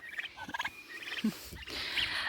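One-month-old Big-6 turkeys gobble in short, warbling bursts at a moderate distance, with scattered clucks and background farmyard noise.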